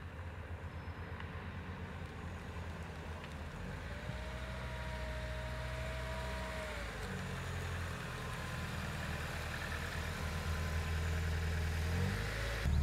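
A 1990s Nissan Primera P10 with about 100,000 miles rolls up and arrives, its engine running as a steady low rumble that grows slightly louder and nearer over time, with no talking.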